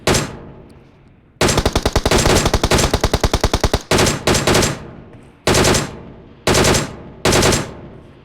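Machine-gun fire in PUBG Mobile: a long rapid burst of evenly spaced shots, then several shorter bursts and single sharp cracks with gaps between, loud and close, with no talk over it.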